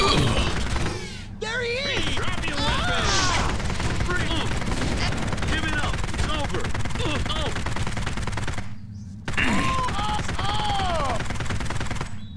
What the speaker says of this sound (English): I'm gonna use my SMG. I really like it a lot better than the shotgun.